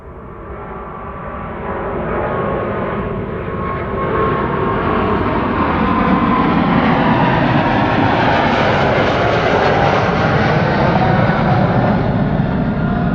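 A KLM airliner bound for Quito departs Amsterdam Schiphol Airport, its jet engines building from a near roar to a loud, steady rumble that peaks and holds without any voices.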